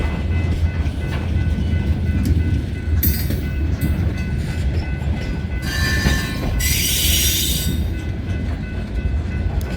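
A De Queen and Eastern Railroad freight train rolls past close by with a continuous heavy rumble, broken by bursts of high, shrill wheel squealing.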